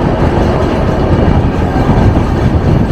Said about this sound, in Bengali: রাজধানী আস্তে আস্তে নিজের গতিতে আসছে